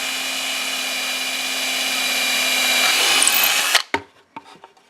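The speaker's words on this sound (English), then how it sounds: "I want to be careful with this, seeing as there's no backer board, but it's a small drill" A small power drill whines steadily as it bores into material with no backer board behind it, its pitch rising slightly before it stops abruptly, followed by a few clunks and handling noises.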